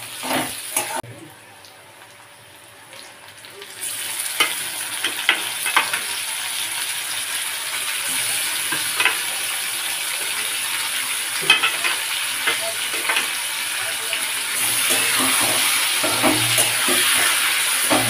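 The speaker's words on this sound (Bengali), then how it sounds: "পেঁয়াজটা একটু লাল হলে তারপর আমি ম্যারিনেট করে রাখা মাংসটাকে দিয়ে দেবো।" Onions, bay leaf and marinated chicken frying in a pan make a steady loud sizzle with frequent stirring scrapes and clatters throughout, the hiss rising louder toward the end.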